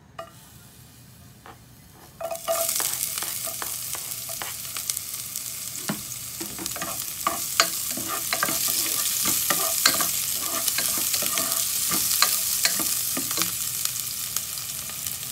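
Onions sautéing in a pan for shrimp paste (bagoong alamang), starting quiet then bursting into a steady sizzle with frequent spoon clinks and stirring scrapes throughout.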